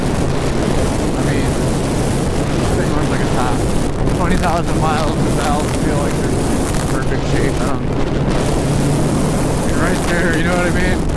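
A 2010 Kawasaki Z1000 motorcycle engine runs steadily throughout, with a constant loud drone and wind noise, while someone talks over it.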